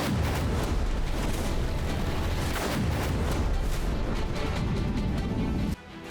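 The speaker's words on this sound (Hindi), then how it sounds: "ईरान पर जबरदस्त बमबारी" Heavy, repeated booming bomb blasts from an airstrike on Tehran rumble one after another in a dense, loud barrage, with deep thuds and crackling debris throughout.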